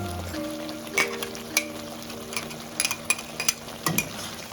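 Tomato paste and ginger-garlic paste sizzle steadily in a frying pan for a fish curry, with a spoon scraping and clinking against the pan in several short bursts of stirring.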